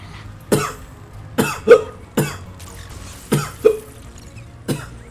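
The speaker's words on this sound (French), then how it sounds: "je tousse" A series of six or seven short, sharp coughs spaced irregularly over several seconds, fairly close and with no talking.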